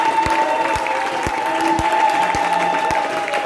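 A church congregation claps in a steady, even rhythm, about two claps per second, under a sustained tonal hum of music or voices.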